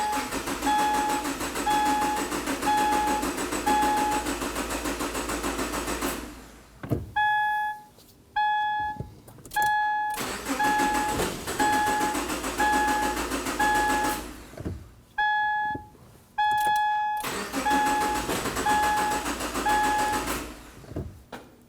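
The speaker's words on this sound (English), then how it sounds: "we're going to turn the car over until we know that the system is depressurized" A 2013-2015 Subaru XV Crosstrek 2.0L H4 engine is cranked repeatedly while its fuel system depressurizes, with bursts of rhythmic starter churning separated by short pauses, and a steady electronic beeping tone sounding during the breaks.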